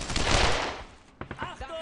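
Suppressing gunfire rattles out in the Brothers in Arms World War II shooter, a dense, loud burst of rifle and machine-gun shots close by. A shouted voice cuts in near the end.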